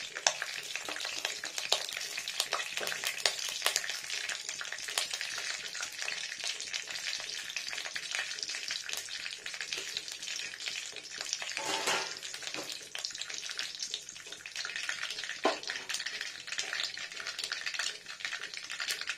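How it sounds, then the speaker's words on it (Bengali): Mustard seeds spluttering in hot mustard oil for dhokla, a steady, close crackle of fine pops and sizzling that runs continuously throughout, with a few louder bursts along the way. "ফুটে গেছে সর্ষেগুলো"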